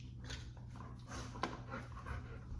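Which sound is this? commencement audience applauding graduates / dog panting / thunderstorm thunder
dog panting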